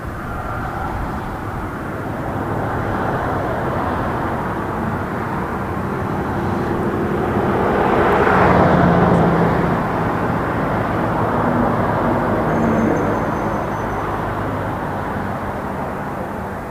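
An Emirates airliner at Toronto Pearson Airport produces a broad, continuous engine roar and whine that swells gradually toward the middle and eases off, heard from a moderate distance with no talking.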